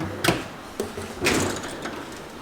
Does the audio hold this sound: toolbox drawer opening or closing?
yes